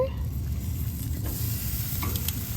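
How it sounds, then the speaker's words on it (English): Marinated portobello mushrooms sizzle steadily on a hot grill, a continuous close frying hiss with faint stirring and clinks throughout. "I'm gonna grab these and I'm gonna put them directly on the heat here"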